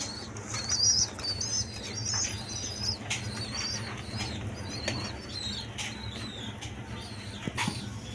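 A pair of high-flying giribaz pigeons flap their wings in quick bursts, joined by thin bird chirps above a steady low hum.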